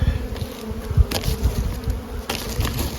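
Honey bees buzzing inside a hive during spring feeding, a dense close-up drone of many wings with soft knocks and brief crackles of movement.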